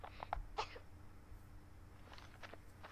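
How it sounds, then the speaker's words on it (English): A woman character coughing in the video game I Am Alive, a few short, quiet coughs close together early on, then fainter breathy sounds, with no speech. "It's May, she's coughing. Probably from the dust."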